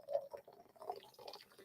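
Hot water poured in a slow anticlockwise circle over ground coffee, a soft, quiet liquid trickle with gentle splashy bursts, close by and alone.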